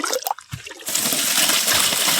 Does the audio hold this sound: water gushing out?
yes